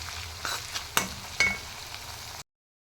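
Ingredients for a spicy chicken fry sizzle in hot oil, with steady frying hiss and a few clinks of stirring before the sound abruptly stops.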